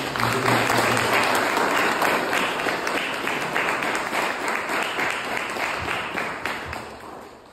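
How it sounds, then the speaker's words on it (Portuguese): A church congregation breaks into sustained applause, a dense wash of many hands clapping together that stays loud and even before gradually thinning out toward the end. "Vamos aplaudir o Senhor Jesus."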